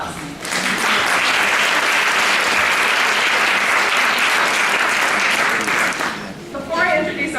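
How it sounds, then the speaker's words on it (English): Loud, sustained applause from a conference audience at a morning health-policy event, a steady broadband roar lasting several seconds before tapering off. "Give them a round of applause."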